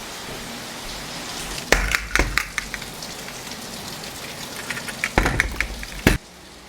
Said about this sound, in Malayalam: മഴ പെയ്യുന്നുണ്ട്, നല്ല മഴ ഉണ്ട്.